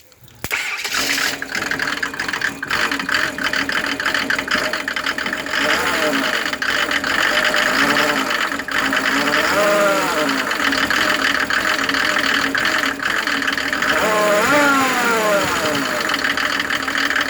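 A Mercedes OM603 turbo diesel engine driving a new water pump revs up repeatedly, rising and falling in pitch with strong low rumble, while people talk over it.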